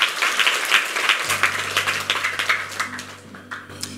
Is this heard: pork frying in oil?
no